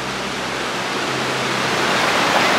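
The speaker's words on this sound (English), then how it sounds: "You can see this creek is flowing really well with all the snow." Oak Creek, a mountain stream swollen with snowmelt, rushes steadily in a continuous broadband splash and hiss, close and fairly loud, with no talking.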